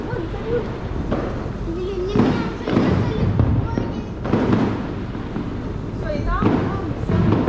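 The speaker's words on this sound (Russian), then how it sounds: "Салют видно." Fireworks salvos burst repeatedly on New Year's Eve in Hua Hin, Thailand, a steady crackling and thumping barrage at a distance, with people talking over it.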